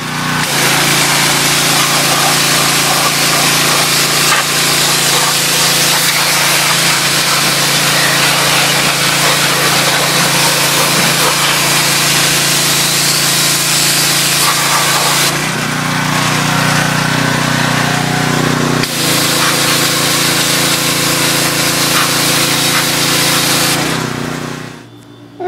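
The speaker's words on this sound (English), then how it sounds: "we're gonna give this thing a quick little power washing like what I always do when I give it a good tune up" A pressure washer runs steadily while cleaning a Craftsman push mower, a loud continuous hiss and motor drone that shifts in tone mid-way as the spray moves, then cuts off near the end.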